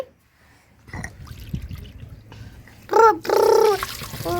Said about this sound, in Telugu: నాలుగు గిన్నెలు నీళ్ళు అయితే వేసుకుందామండి